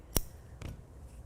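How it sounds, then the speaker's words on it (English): A single sharp snip of scissors cutting crochet yarn, close and crisp, followed by a softer second click of the blades, with no talking. "when you've finished your round, you can go ahead and cut your yarn"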